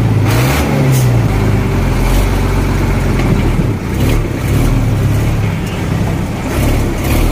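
A Leyland Tusker truck's engine runs steadily and loud and close, rising and falling with revs as it is driven through a double-clutch gearbox, with brief pitch shifts near the start and no talk over it.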